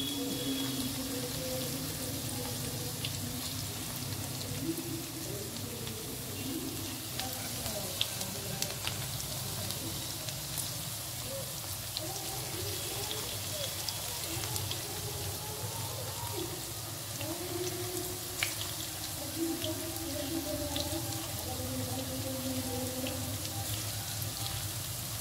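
Cabbage fritters (pakora) frying in hot oil, a steady soft sizzle and crackle that carries on without a break, with faint clatter of utensils now and then.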